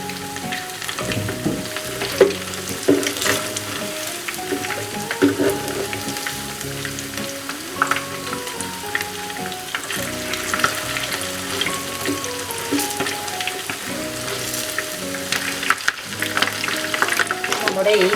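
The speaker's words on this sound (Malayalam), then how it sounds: "ഇതും കൂടെ ഫ്രൈ ആക്കാൻ വേണ്ടി ഞാനിവിടെ അടുപ്പിലിട്ടിട്ടുണ്ട്." Chicken pieces fry steadily on a stovetop for a crunchy chicken fry, giving a continuous loud sizzle and crackle with occasional stirring scrapes and no talk.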